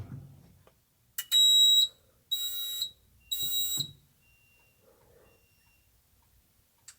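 A building fire alarm system under testing blasts three loud, harsh electronic bursts, each lasting about half a second with short gaps between, then falls quiet.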